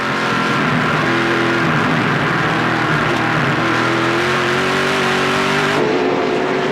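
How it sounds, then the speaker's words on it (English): Race cars roar continuously past on the Edmonton road course during a 2010 Canadian Tire 100 stock car race, with loud, overlapping engine drone and shifting pitch as the cars battle for position. "it's a battle for fourth position between the 69 of Trevor Siebert and the 22 of Scott Steckley"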